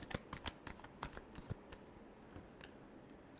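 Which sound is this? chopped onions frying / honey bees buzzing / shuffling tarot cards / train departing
shuffling tarot cards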